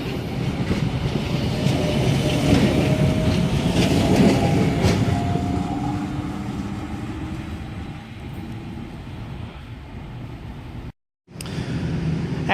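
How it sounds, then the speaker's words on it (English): An S-set electric train pulls away from the platform at Camellia station, a loud, close rolling rumble with motor whine that gradually fades as it departs, with no one speaking. "S89 now departing platform number 1, Clyde service."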